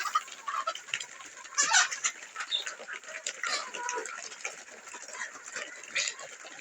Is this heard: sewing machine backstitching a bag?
no